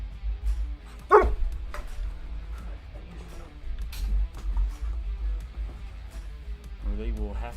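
A few sharp dog barks and yips break out at close range amid people talking, scattered irregularly across several seconds.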